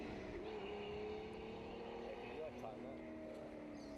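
Holden triple-carburettor six-cylinder engine in a historic Torana race car at a grassroots sprint meeting, droning steadily down the straight toward a corner, held at a constant pitch with a brief gear change partway, heard under a commentator's talk.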